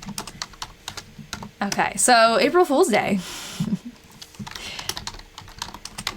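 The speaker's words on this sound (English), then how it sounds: "Always takes me a little while to get into it with the typing" Typing on a computer keyboard during a live session transcribing 1944 diary entries: rapid, steady clicking of keys runs throughout, close and fairly loud, with a person speaking briefly over it midway.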